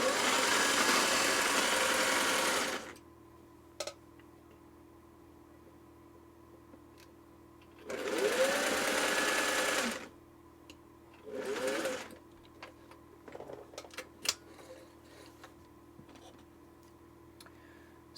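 A Singer Touch & Sew sewing machine runs a straight stitch in three bursts: a long stretch, a second run, then a short final spurt, each with a steady whirring motor and rapid needle chatter, followed by faint clicks between runs.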